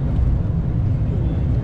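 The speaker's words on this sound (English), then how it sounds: "This is like a charter plane." Steady low droning engine rumble fills the cabin of a small charter plane on a flight from Kathmandu to Pokhara, continuous and fairly loud without clear talk over it.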